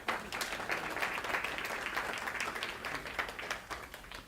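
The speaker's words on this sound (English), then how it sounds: "Let's give them a round of applause." A church congregation claps together during a Sunday service, a steady, dense applause that holds at an even level for about four seconds.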